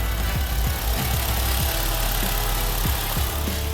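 A Honda Accord's K-Series engine runs steadily nearby after an off-road dirt drive, a loud continuous idle hum with a few low thumps and no voices.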